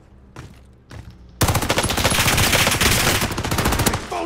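Rapid automatic gunfire in a battle royale shooter game, loud and sustained bursts of close shots after a quieter opening with a few distant pops.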